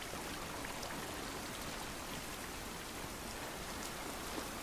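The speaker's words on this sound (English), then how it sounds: "look at the rain hitting off the water" Steady rain falls onto water in The Last of Us Part 1, a dense, even hiss of drops and spatter that stays constant and fairly soft, with no voices.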